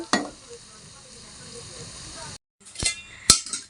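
Iftar snacks fry in oil over a low flame, a soft, steady sizzle close by with a few metal clinks, a brief silent gap, then more frying.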